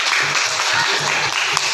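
Classroom applause from a group of students, a brief burst of steady, close clapping that continues evenly throughout.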